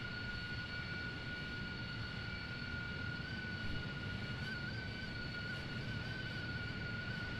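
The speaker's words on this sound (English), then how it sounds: "sorry for that annoying sound of the plane" A propeller airplane engine in Microsoft Flight Simulator 2020 drones steadily and evenly throughout, a sustained whine with a constant pitch over a low rumble, heard alone with no talking.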